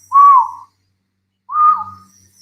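A person whistling an imitation of a Sulawesi scops owl call: two separate clear, slightly wavering notes with a pause between, close and alone.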